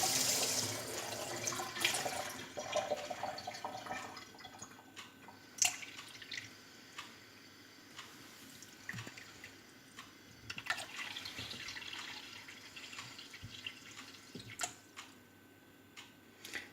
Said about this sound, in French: Je vais mettre de l'eau bien froide.